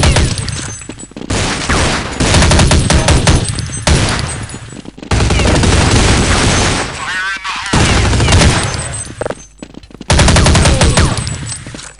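Rapid automatic gunfire and single shots from the video game Counter-Strike 1.6 crackle loudly in dense bursts almost throughout, with brief gaps between volleys.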